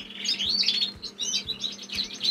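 Many canaries chirp and trill together in a breeding room, a dense, continuous chorus of bright overlapping calls, loud and close, with no talking.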